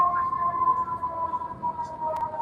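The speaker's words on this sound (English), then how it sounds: "So ambulances here are extremely loud." An extremely loud ambulance siren in Chicago wails fairly steadily in the street, heard at a moderate distance under faint background voices.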